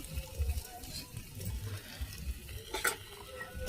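Khichuri spices being stirred in a clay pot: soft, irregular scraping and rustling with low thuds and faint sizzling, plus a brief sharper clink near the end, all at moderate loudness.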